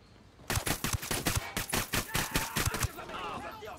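Bursts of automatic gunfire in Ghost Recon Wildlands, a string of sharp, loud cracks in quick succession for a few seconds before tapering into quieter background noise.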